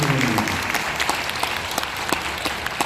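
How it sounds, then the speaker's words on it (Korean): Audience at a book launch event claps in encouragement, a loud continuous patter of many hands with sharp individual claps poking through, sustained evenly throughout. "여러분들 한번 격려의 박수를 이 대목에 한번"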